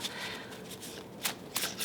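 Tarot cards are shuffled close up in a brief, soft run of riffling and sliding, with two sharper flutters near the end.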